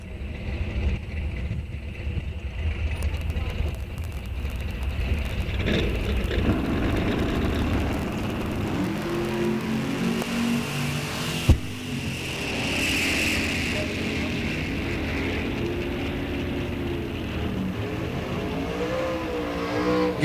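A 1970 Firebird and a dragster launching side by side down a drag strip at an ET series race, engines roaring steadily for about twenty seconds with a sharp bang near the midpoint, a distant announcer's voice faintly underneath.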